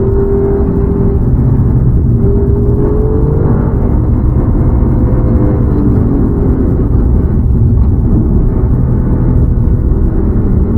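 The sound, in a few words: Alfa Romeo Giulia Quadrifoglio engine noise while driving fast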